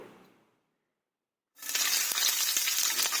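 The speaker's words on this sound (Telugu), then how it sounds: "ముందుగా ఉల్లిపాయ పచ్చిమిరపకాయ క్యారెట్ని అయితే వేయించుకుంటున్నామండి" Onion, green chili and carrot hit hot oil in a pan for Andhra-style semiya upma, bursting into a loud, close, crackling sizzle after a brief silence and continuing steadily.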